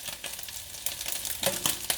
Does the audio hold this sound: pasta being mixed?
yes